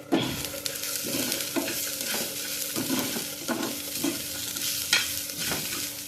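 Chicken masala frying in a pan for Udupi-style chicken puli munchi, with a steady close sizzle and repeated rhythmic scraping strokes of a spatula stirring roughly every half second, no voices.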